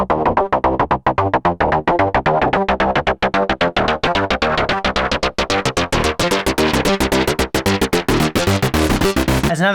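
A busy, rhythmic acid synth line from Pigments pulses in rapid repeated notes, its bright buzzy tone shifting as the filter cutoff opens and closes throughout.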